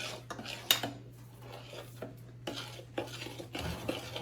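A spoon stirs banana bread muffin batter in a bowl, giving quiet scraping sweeps and a few sharp clinks against the side, with a low steady hum beneath.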